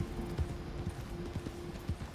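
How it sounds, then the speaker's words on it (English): Horses pulling a big wagon in the video game Red Dead Redemption 2 make a steady clip-clop of hooves at a walking rhythm, with a faint tone held underneath. "Luckily the man brought like a big wagon with his horses."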